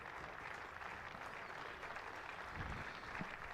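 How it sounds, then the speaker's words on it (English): A county cricket crowd keeps up lingering applause as a batter walks out for his final home game, a continuous soft wash of distant clapping. "That's why there's a lingering round of applause"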